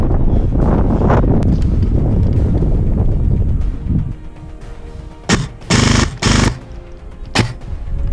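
Airsoft guns fire BBs outdoors in heavy wind, starting with a dense, noisy burst of rapid shots and then breaking into short, sharp bursts separated by gusty wind noise.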